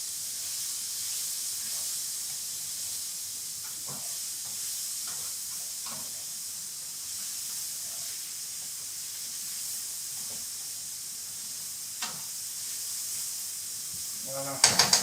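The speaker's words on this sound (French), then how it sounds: "on est parti pour les faire revenir nos poireaux" Leeks sautéing in a frying pan give off a steady, even hiss and sizzle throughout, with faint scattered clinks and brief stirring noises and a few sharper knocks right at the end.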